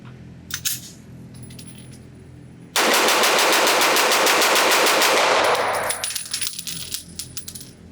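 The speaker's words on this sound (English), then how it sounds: "So let me put a mag through this as fast as I possibly can" A Smith & Wesson M&P9 M2.0 metal-frame 9mm pistol with a 4.25-inch barrel fires a full magazine in a rapid, evenly spaced string of loud shots, then spent brass tinkles to the ground as the firing stops.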